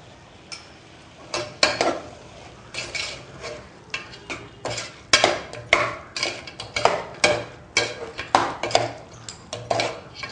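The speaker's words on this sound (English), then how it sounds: "Keep stirring till the masala's raw smell leaves" A spoon scrapes and clanks repeatedly around a pot of masala with salt, chili and turmeric for mutton korma, a steady run of close metallic stirring knocks under faint background sizzle.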